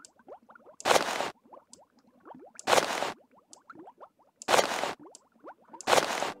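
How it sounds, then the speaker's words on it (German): Liquid bubbling in the background of the fantasy game Ultima IX, soft gurgling plops under four loud, regular bursts of hissing noise that repeat roughly every two seconds. "Dieses Blubbern im Hintergrund ist auch sehr schön."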